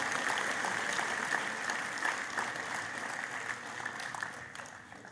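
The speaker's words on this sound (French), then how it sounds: "Je vous demande d'applaudir Marc Lefebvre" An audience at a departmental council event applauds Marc Lefebvre, with steady, sustained clapping from a crowd in a hall, even and moderately loud throughout without talk.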